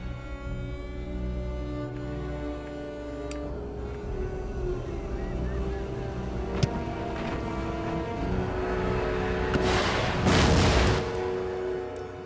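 Mortar fire from an Empire: Total War battle: dull booms and sharp cracks over a constant low rumble of battle, with one louder rushing blast near the end.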